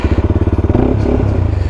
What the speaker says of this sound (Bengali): বাইকটা রাইড শুরু করতেই এক্সজস্টের সাউন্ডটা খুব সুন্দরভাবে ফিল করা যায়